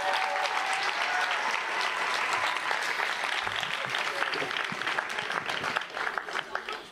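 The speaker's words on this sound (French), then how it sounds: "je vous demande de les applaudir très très très très très fort" A school audience at a closing concert with a band applauds loudly and steadily, dense clapping that thins slightly toward the end, with some crowd voices underneath.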